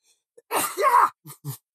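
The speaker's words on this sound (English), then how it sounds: "As I sneeze" A single loud, breathy sneeze with a sharp inhale and burst, followed by two brief quieter vocal sounds, heard close up.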